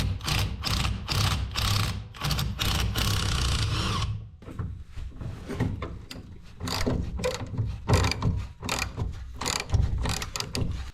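A hand ratchet clicks in fast repeated strokes while rear differential bolts are loosened on a BMW E36, up close with metallic pawl chatter coming in bursts and pauses and no one talking.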